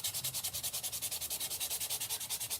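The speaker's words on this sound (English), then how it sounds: "Then you want to lightly take your sanding block" A sanding block rubs lightly over embossed scrapbook paper, a quiet rhythmic scratching in quick, even back-and-forth strokes, close and heard alone.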